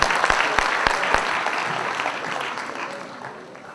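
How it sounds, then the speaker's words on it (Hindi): Loud applause from an audience at a Braj Kala Kendra Holi festival award ceremony, opening with a few sharp distinct claps, then swelling into dense steady clapping that slowly fades, with no talk over it. "जोरदार तालियां"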